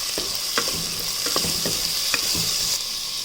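Garlic and ginger stirred in a hot pan, a continuous bright sizzle punctuated by repeated spoon scrapes and taps, close and fairly loud with no talking.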